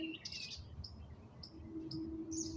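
Birds chirp in nature with several short, high tweets scattered over a few seconds against a soft outdoor background hum, fairly faint and somewhat distant.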